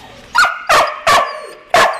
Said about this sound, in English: You're the one doing all the barking.